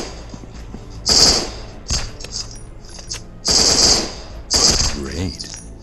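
Loud bursts of automatic gunfire in the mobile shooter game Counter Terrorist Portable, two long rapid volleys with a few shorter shots between them, close and sharp, over faint in-game background noise.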